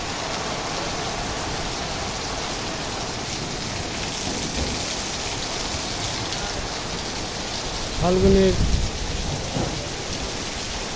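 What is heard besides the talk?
heavy rain and thunderstorm with strong wind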